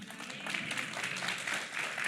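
An audience at a sermon claps in a soft, steady wash of applause that stays fairly even for about two seconds, heard at a distance.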